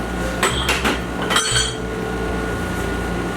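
A spoon or utensil clinks sharply against a bowl a few times while Italian breadcrumbs are added to a meatloaf mixture, followed by quieter steady mixing over a low background hum.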